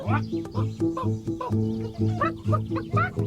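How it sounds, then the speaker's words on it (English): Potterton's hens cluck and squawk in quick, overlapping bursts while scratching for worms in freshly raked vegetable-patch soil, a close, busy flock chattering with short sharp calls throughout. "all of Potterton's hens came rushing over and started digging in the newly raked soil for worms"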